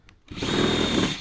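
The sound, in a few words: drill reaming out a hole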